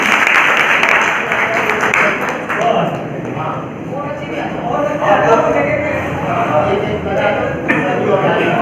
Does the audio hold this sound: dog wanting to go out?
no